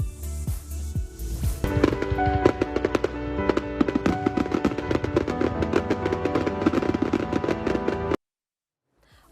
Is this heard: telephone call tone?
no